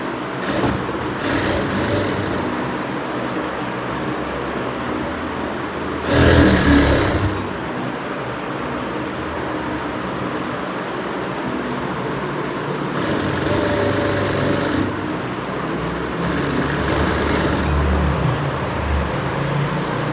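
A sewing machine hums steadily and loudly while stitching a Patiala pajama, with a few short, harsher bursts of faster running spaced through the stretch.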